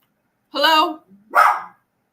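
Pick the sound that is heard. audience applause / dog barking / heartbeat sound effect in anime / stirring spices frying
dog barking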